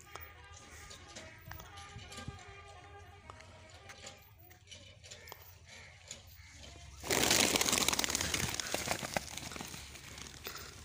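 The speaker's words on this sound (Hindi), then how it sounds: "सारे कबूतर छपके में आ गए" Pigeons shuffle and coo near a grain-baited trap, then a sudden loud burst of flapping wings and rustling as the birds rush in or scatter, close up.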